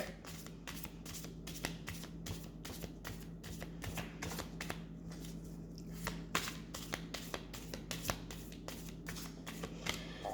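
A deck of tarot-sized cards is shuffled over and over, making close, faint riffling flutters in quick repeated bursts with no talk.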